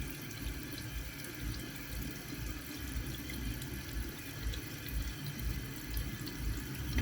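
Tap water running steadily into a sink during a face-washing skincare routine, a soft continuous splashing rush with no talking.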